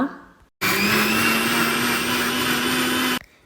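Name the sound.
mixer grinder blending yogurt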